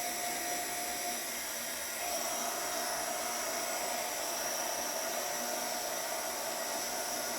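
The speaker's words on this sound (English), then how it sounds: "I do recommend all crafters to at least have a heat gun" A heat gun blows hot air in a steady, even hiss and whoosh while used for crafting, loud and close, with a slight lift in intensity partway through and no talking.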